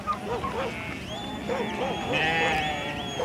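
Sheep on a South American ranch bleat repeatedly in wavering, overlapping calls. Several animals sound at once, fairly close, over a steady background hum.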